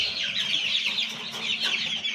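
Turkey and Aseel chicken chicks on a farm chirp and cluck in a busy, overlapping stream of high, bright calls, close and continuous with no one talking.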